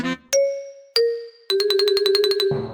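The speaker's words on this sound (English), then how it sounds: "Peppa touches the bell, and it rings softly." A small bell in a cartoon rings softly in three clear dings, the last one tapped rapidly in a quick repeated tinkle, each tone ringing on and fading, with no voices.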